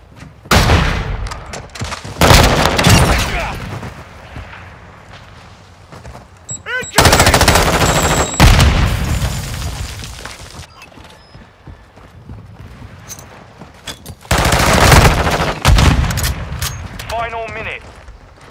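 Bursts of loud machine gun fire in the video game Call of Duty: Modern Warfare, several rattling volleys close by, separated by quieter stretches with shouted voices and battle noise underneath.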